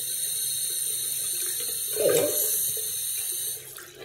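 A bathroom tap runs steadily into a sink to wet a towel, a constant close water stream that swells briefly midway as the cloth meets the flow, then eases off at the end.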